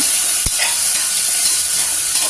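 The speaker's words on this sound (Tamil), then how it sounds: "வெங்காயம் வதங்கட்டும்" Onions sauté in hot oil in a pan, a continuous close sizzling hiss with no talking.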